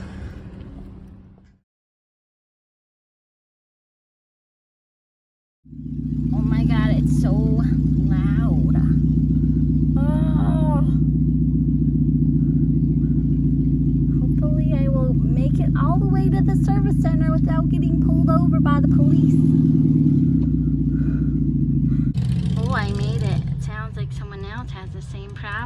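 Loud, deep exhaust drone from a Nissan car driven after its catalytic converter was stolen, a constant heavy rumble throughout with someone talking over it, after a short silent gap.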